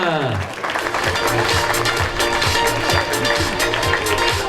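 Applause from the crowd at a triathlon prize-giving for a French military championship, steady clapping that runs throughout, with a loud tonal music or voice sweep at the start layered over it.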